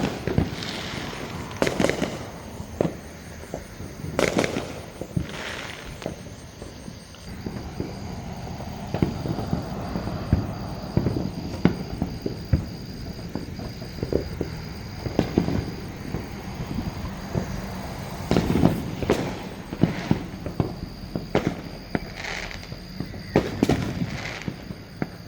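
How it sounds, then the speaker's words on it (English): Fireworks burst outside on the Fourth of July in irregular sharp bangs and crackles, some loud and some distant, scattered over a steady low background rumble. "We've got lightning and fireworks going on."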